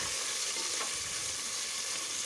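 Onions frying with spices and curry leaves in a pan for egg biryani, a continuous close sizzle with a brief stir midway, steady and uninterrupted.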